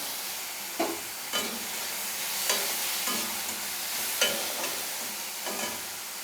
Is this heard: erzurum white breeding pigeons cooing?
no